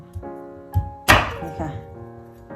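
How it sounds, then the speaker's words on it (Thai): Peeled cassava is chopped into small pieces with a knife, giving a few distinct thunking chops with one sharp, loud strike in the middle, set against a steady tonal background hum. "ผ่าหั่นให้มันเป็นชิ้นเล็กๆอะคะ"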